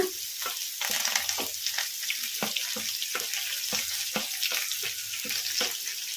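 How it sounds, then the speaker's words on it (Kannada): Chopped onion, green chili and curry leaves frying in hot oil for a radish dish, a loud, steady crackling sizzle broken by regular stirring scrapes of a spoon in the pan. "ಉಳ್ಳಾಗಡ್ಡಿ ಜಾಸ್ತಿ ಫ್ರೈ ಆಗೋದೇನು ಬೇಡ, ಲೈಟ್ ಬ್ರೌನ್ ಕಲರ್ ಬರೋವರೆಗೂ ಫ್ರೈ ಮಾಡ್ಕೊಂಬಿಡೋಣ"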